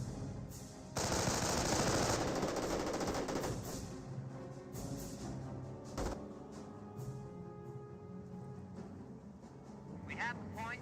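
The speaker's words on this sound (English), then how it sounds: "Mortar has been crewed and getting some rounds onto those Panzer Grenadiers" Mortar rounds fired at Panzer Grenadiers in the Company of Heroes video game, heard as a loud burst of battle noise with gunfire and sharp impacts, then fading to scattered distant shots while a voice talks over it.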